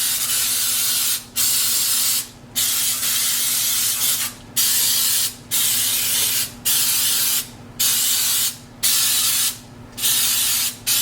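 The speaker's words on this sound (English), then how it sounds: "I'm just going to spray the muffin tin pretty generously" Repeated bursts of cooking spray onto a 12-cup muffin tin, about nine short hissing sprays in a steady rhythm with brief pauses between them, close and fairly loud, with no talking.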